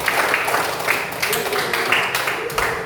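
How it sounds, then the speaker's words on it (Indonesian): A seventh-grade class applauds a group that has just presented, giving a continuous room full of hand claps that holds steady and fairly loud for a few seconds. "Tepuk tangan untuk kelompok 2 mempresentasikan hasilnya."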